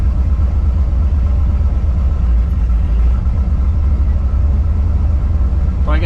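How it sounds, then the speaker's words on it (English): A 1973 AMC Javelin AMX V8 idles steadily at close range with a deep, loud, continuous rumble and no revving. "Idling at about 950."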